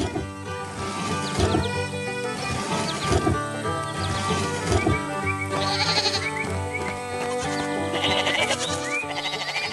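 White sheep bleat on a farm, their repeated calls rising above a busy cartoon music bed at a steady, moderate loudness.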